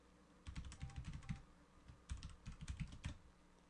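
Fingers type a password on a computer keyboard in two quick bursts of soft clicking keystrokes, close and quiet with a short pause between them and no voices.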